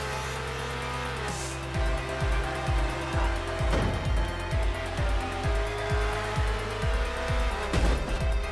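Racing cars in the video game Horizon Chase Turbo roar along steadily while a rapid series of sharp impact thumps repeats from the collisions.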